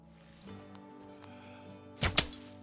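A bow shot at a buck while hunting in the video game Call of the Wild: a sharp double thunk near the end, after a quiet stretch of faint ambient tones.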